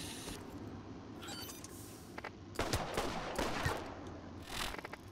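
A pistol fires in Borderlands, a burst of sharp shots at about two and a half to four seconds with a few more cracks near the end, heard over a low steady game background.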